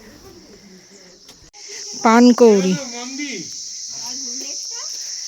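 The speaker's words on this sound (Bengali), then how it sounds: "সুন্দর ঝিঝি পোক্কার ডাক" Crickets chirp near a lake in a hilly outdoor setting at Pelling, a steady high, shrill drone running throughout, while a person speaks briefly over it partway through.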